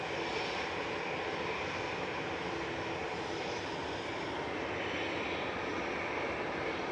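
An airliner departs Manchester Airport bound for Malta, its jet engines a constant broadband roar held at an even, fairly distant level throughout with no voices.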